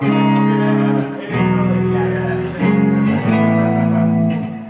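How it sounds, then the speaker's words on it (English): An electric guitar strums the Aberdeen chord repeatedly, four or five loud strikes letting each rich, sustained chord ring with a slightly overdriven tone. "This is the Aberdeen chord. It sounds like this."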